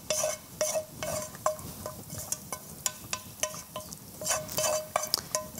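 Vegetables tipped into a pot of potato soup and stirred with a utensil, giving repeated clinks and scrapes against the pot in an irregular rhythm, close and moderately loud, with no talking.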